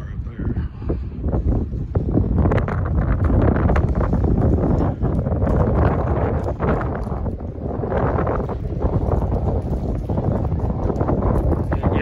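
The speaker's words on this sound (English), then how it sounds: "the wind is just miserable" Strong, steady wind roars and buffets the microphone outside an abandoned Kmart in Florissant, Missouri, a loud continuous rush over the whole stretch with brief voices mixed in underneath.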